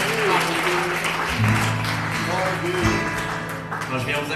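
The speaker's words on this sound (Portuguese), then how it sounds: "Adore o Senhor com as suas palmas, com o seu grito de júbilo." A church congregation at an evening worship service claps and cheers, a loud continuous wash of applause mixed with voices and sustained tones, steady throughout.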